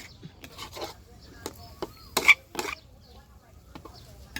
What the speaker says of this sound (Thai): แตงกวาลงไป ผัดสักพักพอแตงกวาหมาดๆ